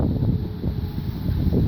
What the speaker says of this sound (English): It's really windy today, so I'm sorry if you're hearing a bunch of wind